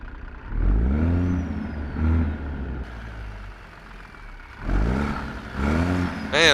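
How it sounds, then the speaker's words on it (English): A Peterbilt 389 truck engine in American Truck Simulator revs repeatedly, deep rising pulls and drops of a diesel close up, swelling in several bursts with quieter idle stretches between. "Man, listen to that engine."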